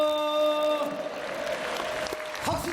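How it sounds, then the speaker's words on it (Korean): A church congregation at a night worship service gives scattered, loosely rhythmic applause. It follows a fading sustained musical tone and carries on at moderate volume to the end. "박수를 치려면 치고 말라면 말지 도대체 모르겠습니다"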